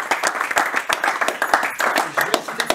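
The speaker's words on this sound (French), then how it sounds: "on peut l'applaudir, il mérite aussi." Clapping from an audience at a charity event, a quick, uneven patter of individual claps with a voice talking over it.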